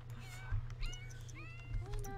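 A cat meows several times in short, high, wavering calls, indoors and close, over a steady low hum.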